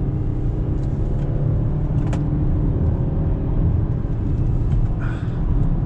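A Mazda CX-5's four-cylinder engine drones steadily as the car drives through a corner, a constant low hum with road and tyre noise and no talking over it.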